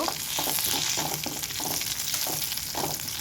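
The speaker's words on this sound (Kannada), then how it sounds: "ಸ್ವಲ್ಪ ಕರಿಬೇವು ಸೊಪ್ಪು ಲಾಸ್ಟ್ ಫೈನಲ್ಗೆ ಹಾಕುವ. ಸ್ವಲ್ಪ ಫ್ರೈ ಮಾಡುವ." Curry leaves fry in hot oil for a chicken palak green masala, a close, continuous crackling sizzle with stirring scrapes pulsing at a regular rhythm, with no talk.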